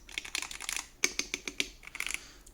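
A light, mostly plastic Hall effect keyboard being typed on, quick crisp clacky keystrokes in short uneven bursts, close and fairly quiet, with no talking.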